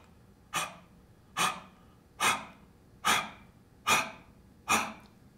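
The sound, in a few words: forceful exhalation during breathing exercise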